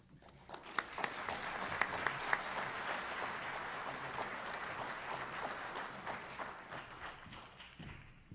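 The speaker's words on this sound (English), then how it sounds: "Let's have another round of applause for the San Jose Clinic." Sustained round of applause from an audience at a fellowship orientation event honoring a clinic, many hands clapping steadily at moderate distance with a few sharper claps standing out, tapering off near the end.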